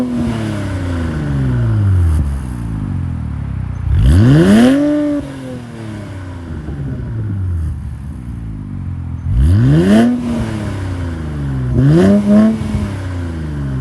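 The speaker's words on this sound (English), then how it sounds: "Now I'm going to get inside and you guys are going to listen to the exhaust." A 2022 Infiniti Q60S Red Sport I-Line AWD coupe with a 400 hp engine, its exhaust blipped in a series of sharp revs that climb and fall back, heard from close by.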